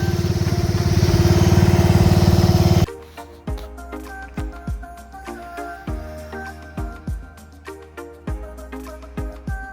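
A Craftsman DYT lawn tractor engine running loud and steady at first, then cutting off, followed by a series of irregular clunks and knocks from the machine.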